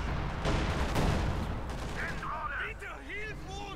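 Artillery shells landing during a Company of Heroes 2 multiplayer battle, a dense run of booming impacts and crackling explosions in the first half that gives way to overlapping voices and tonal game sounds.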